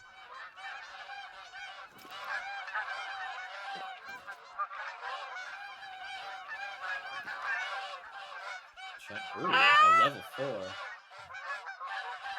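Canada geese honking in the hunting game The Hunter: Call of the Wild, a steady chorus of nasal honks with a louder, closer flurry late on; a person briefly speaks.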